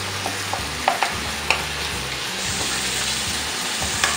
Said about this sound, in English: Look at the eggs cooking there.